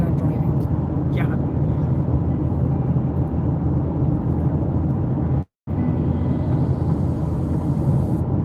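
A car drives along a rural road after rain, snow and ice, its steady low road rumble and tire noise running throughout, broken by one brief dropout.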